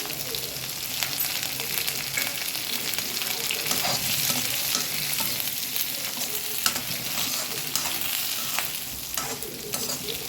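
Fenugreek seeds frying in oil for tempering, a continuous close, crackling sizzle with faint stirring, heard alone.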